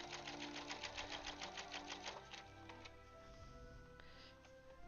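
A quilting machine stitching a Seahawks quilt runs with a fast, rhythmic needle chatter for the first couple of seconds, then settles into a smoother mechanical hum.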